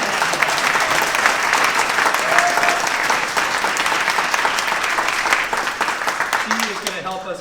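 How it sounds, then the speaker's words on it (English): A church congregation gives Mother Amy a round of applause, dense sustained clapping from a large crowd that runs steadily for several seconds and tapers slightly near the end, with a few voices mixed in. "How about a round of applause for Mother Amy?"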